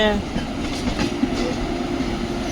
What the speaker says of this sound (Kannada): ಈಗ ಪ್ಲ್ಯಾಟ್ಫಾರ್ಮಿಗೆ ಶಂಟ್ ಆಗ್ತಿದೆ ಗುರು